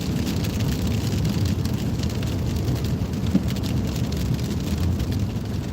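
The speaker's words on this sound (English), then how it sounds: "I'm going to take these wipers up to warp 3." Steady heavy rain beats on a car's roof and windshield from inside the vehicle, a dense continuous hiss with the windshield wipers running fast, no talking.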